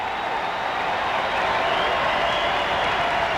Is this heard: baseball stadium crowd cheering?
yes